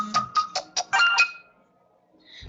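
A mobile phone ringtone goes off during a maths lesson, a short chiming melody of about six bright beeping notes in quick succession, fairly close, then quiet with a faint clink at the end.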